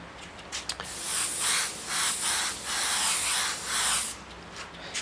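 A siphon-feed airbrush sprays paint in a close, airy hiss, coming in several short bursts that run together over a few seconds and then stop.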